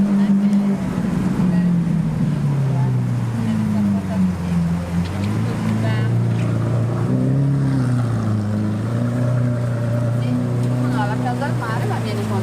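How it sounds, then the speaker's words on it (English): A Lamborghini Aventador fitted with a Capristo decat aftermarket sports exhaust gives a deep, continuous rumble whose pitch slowly dips and rises, with faint background voices. "That is Lamborghini sports exhaust."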